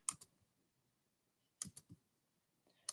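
Computer mouse clicks sound in sharp, quiet pairs and small clusters, close up and separated by near silence.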